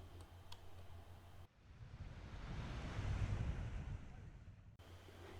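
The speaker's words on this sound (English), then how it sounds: "Here's the water. Some days it's wavy, some days it's calm." Ocean waves at Whale Cove Beach on Cape Breton Island, a soft, steady surf wash that swells into a fuller roar and then recedes, with light wind, fairly faint and distant.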